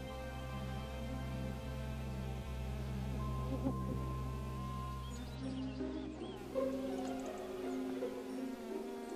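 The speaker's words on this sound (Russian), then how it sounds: "Одна за другой пчелы отправляются в полет на сбор нектара." A steady, low buzzing drone of honeybees flying out to gather nectar hovers throughout, fairly faint and continuous, with a few higher tonal notes drifting above it.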